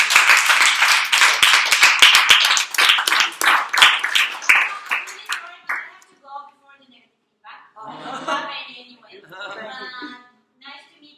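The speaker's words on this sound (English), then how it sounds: "let's give them an applause." An audience claps after a presentation at an alumni conference, a loud burst of applause for the first several seconds that thins out and stops, followed by a person speaking.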